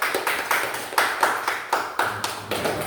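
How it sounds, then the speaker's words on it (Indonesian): A classroom of students claps together in applause after a group presentation, a dense run of sharp hand claps with a loose, uneven rhythm, close and fairly loud, and nobody speaking. "berikan aplaus"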